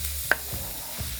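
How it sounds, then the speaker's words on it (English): Steak fajita meat sizzles in a little oil on a hot Blackstone griddle: a steady close hiss with one sharp tap of a utensil near the start and soft scraping after, no voices. "let's get these things to sizzle."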